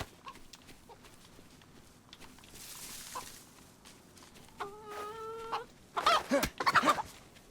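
Chickens clucking in the survival video game DayZ, a few faint clucks early then louder squawking bursts near the end, with a brief tonal chime in between and no talking.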